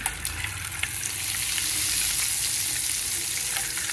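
Eggs sizzle steadily in a hot pan for an egg fry curry with onions, a close, even frying hiss with a few faint crackles and light utensil touches, no talking.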